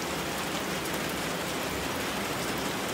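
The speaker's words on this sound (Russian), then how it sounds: "вот он такой дождик." Steady, dense rainfall hisses continuously at an even level, close by, heard from inside a gazebo while fishing, with no talking.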